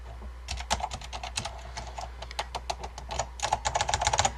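Rapid clacky typing on a Focus FK-2001 keyboard with Alps switches and double-shot ABS keycaps, close and clear, in uneven bursts with a quicker flurry of keystrokes near the end.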